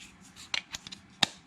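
Xbox Series rechargeable battery pack clicking into a controller: a few sharp, close plastic clicks, with one loud snap standing out among smaller taps.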